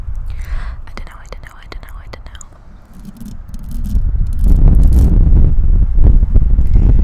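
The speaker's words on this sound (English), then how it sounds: "Now the wind is starting to annoy me." Wind gusts across a microphone in a cemetery, low rumbling buffets growing louder in the second half, heard under a soft whispering voice.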